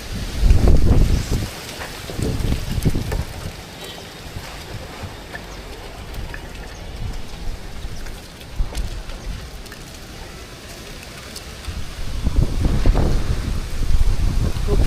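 Kalbaisakhi storm wind and rain buffeting a rooftop, a loud, continuous roar with heavy gusts at the start and again near the end, a voice faintly audible beneath.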